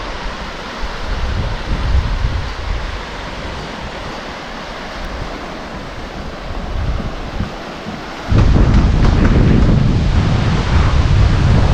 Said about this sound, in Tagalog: Malakas ang hangin today oh.